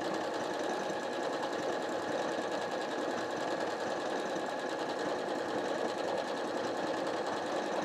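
A sewing machine stitches fabric for a reversible tarot cloth or tablecloth, running in a steady, close, uninterrupted mechanical whir throughout.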